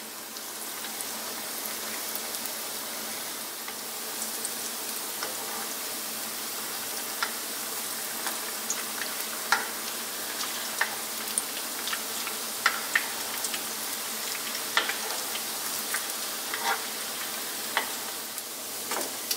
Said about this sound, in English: and gently frying